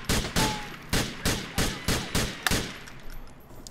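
Gunfire in the video game GTA 4, about eight sharp, evenly spaced shots in quick succession followed by a couple of fainter trailing pops, loud and close with no talk.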